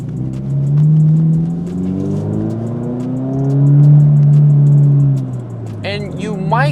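Toyota 86 engine, running an open flash tune, revs hard through the upper range toward 7,000 RPM, a steady loud in-cabin drone that swells, eases and swells again. A voice breaks in near the end.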